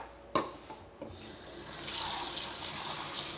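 After a couple of light clicks and clunks, a kitchen tap is turned on and water runs steadily into a sink, a close, constant hiss while things are rinsed.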